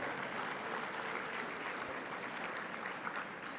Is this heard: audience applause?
yes